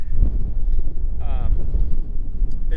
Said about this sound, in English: afternoon the wind picked it up really bad